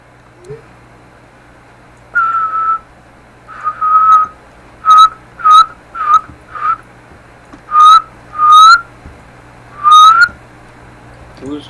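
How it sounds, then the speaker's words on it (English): A person whistles a repeated short tune during a Minecraft gaming session, clear bursts of steady whistled notes with brief pauses, some notes sliding upward, over a low constant hum. "Who's whistling?"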